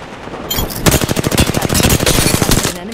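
Rapid automatic gunfire from a video game firefight, a loud sustained burst of tightly spaced shots running for a couple of seconds with no voices over it.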